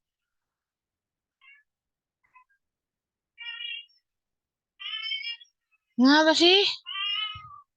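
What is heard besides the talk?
cat meowing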